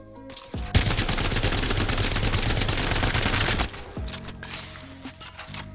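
Havoc energy rifle in the game Apex Legends firing full auto, one loud sustained burst of rapid shots lasting about three seconds, followed by quieter mechanical game sounds.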